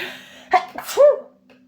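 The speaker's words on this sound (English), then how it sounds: "spirit confirms with a double sneeze" Two sneezes in quick succession, close and loud, the second more drawn out, with a faint steady hum underneath.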